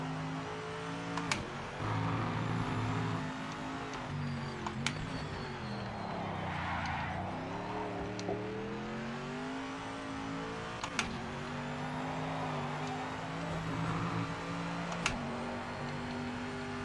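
Racing car engines in the racing game PMR, a steady droning engine note that rises and falls in pitch as the cars rev and shift, with faint clicks in the background.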